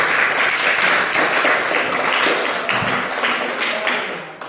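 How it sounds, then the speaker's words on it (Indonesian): A classroom group claps for group 1, a dense patter of many hands from nearby that holds steady and then slowly fades toward the end, with no talking over it. "Tepuk tangan untuk kelompok 1."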